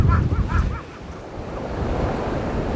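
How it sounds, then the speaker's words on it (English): Strong seaside wind buffeting the microphone on rocks at Enoshima, Japan, a loud continuous roar with surf rumbling underneath. "I'm out on the rocks. It's mighty windy"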